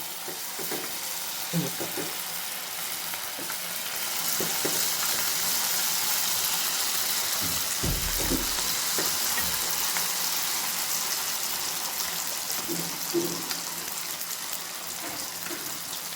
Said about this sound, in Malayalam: ഇനി നമുക്കിതിൽ നിന്ന് സ്പൂണും കൊണ്ട് കുറേശ്ശെ കോരി ഇതിലിട്ട് കുറേശ്ശെ ഫ്രൈ ആക്കി